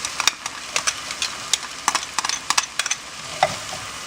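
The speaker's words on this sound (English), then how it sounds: "So now I'm going to add my onions." Onions dropped into a hot, oiled pan for a not-quite paella spit and crackle up close. The sizzle comes in quick, irregular pops and snaps over a low, steady hiss, with no talking.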